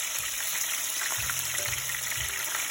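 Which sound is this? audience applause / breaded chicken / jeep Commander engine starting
breaded chicken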